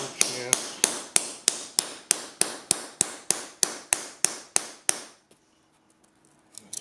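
Hammer driving nails into carpet tack strip over a concrete floor, about fifteen sharp, evenly spaced ringing blows up close, then near silence with faint shuffling at the end.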